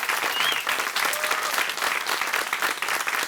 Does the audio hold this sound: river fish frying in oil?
no